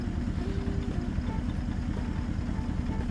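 Truck engine idling in American Truck Simulator with JC's Amateur Engine Pack, a steady low rumble with a regular pulsing beat, close and continuous with no other sounds.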